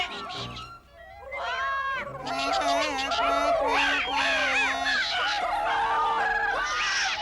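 Cartoon Smurfs squawk and caw like a flock of birds, a voice imitation of bird calls: several shrill, warbling voices overlap loudly and continuously after a brief quieter start.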